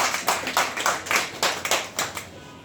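An audience at a business development program applauds the chief guest with a short, uneven run of sharp, nearby hand claps that fade toward the end; no voices.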